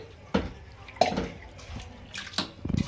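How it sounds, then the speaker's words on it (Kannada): Flattened rice (poha) being rinsed in water, with soft sloshing and a few sharp splashes and drips at irregular intervals, close and fairly quiet. "ಫಸ್ಟ್ ಒಂದು ಟೈಮ್ ತೊಳೆದು ಆಮೇಲೆ ನೆನೆ ಹಾಕೊಂಡ್ರಿ"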